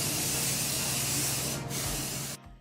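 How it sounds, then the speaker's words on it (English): Spray paint hissing from a can during a laundry area makeover, one continuous loud close spray lasting over two seconds, then cutting off abruptly. "So as you heard on that first couple of sprays"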